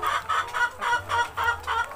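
Laying hens cluck close by in a quick run of about seven short, rhythmic bursts in the morning, with no voices.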